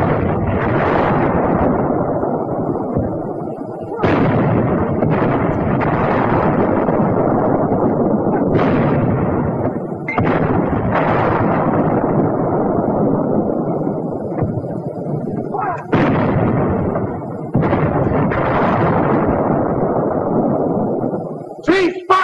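Infantry weapon shots hammer a 4-foot-thick concrete roadblock in a series of loud, heavy blasts, each followed by sustained roaring rumble, with short gaps between the detonations.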